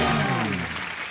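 Studio audience applause on The Kapil Sharma Show as the guest stars arrive, a dense steady clapping that stays loud throughout the brief moment before gradually thinning slightly toward the end.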